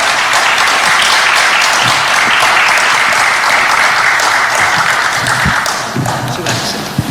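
Sustained, loud applause from an audience closing a church general assembly candidates' public hearing, dense steady clapping throughout that thins slightly near the end.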